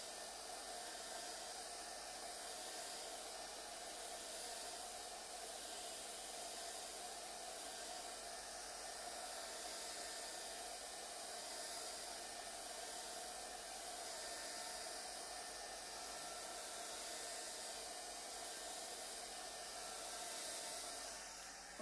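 Hair dryer blowing steadily on a freshly painted triple switch plate during a classic rose decorative painting project, a continuous broadband whoosh with no pauses, moderately quiet and alone.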